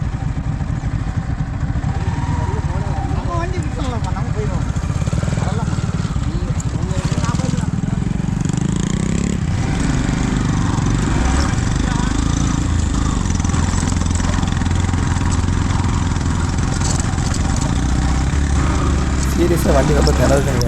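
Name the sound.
vehicle engine struggling on a muddy road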